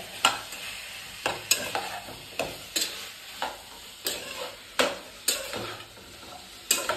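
Fermented bamboo shoot (khorisa) fries in a pan, with a steady sizzle under about a dozen sharp, regularly spaced scrapes of a spatula stirring it.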